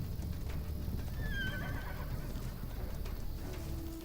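A horse in the video game Badiya lets out a short, faint whinny near a bandit camp, over a steady low rumble of background game noise.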